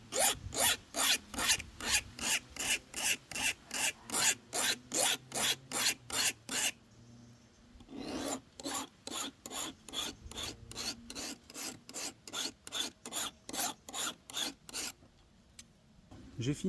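A paring knife blade is drawn in steady strokes across an improvised sharpening surface for rough grinding, giving a loud, rhythmic rasping about twice a second with one short pause partway through.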